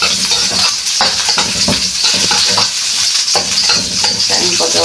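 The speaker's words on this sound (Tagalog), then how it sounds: "magisa ta og permero atong igisa ang loy ang dagko" Large onions sautéing in a pan for banisil, loud continuous sizzling with busy scraping and stirring strokes throughout, very close, no one talking.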